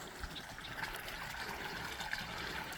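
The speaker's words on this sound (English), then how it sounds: "You can see a little bit of water falling over right there" A small trickle of water spilling over a channel into a pool on reclaimed mine land, a faint, steady bubbling dribble that runs without break and is heard alone.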